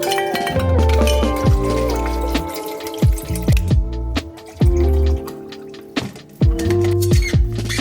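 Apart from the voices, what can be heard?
water filling a Stanley water bottle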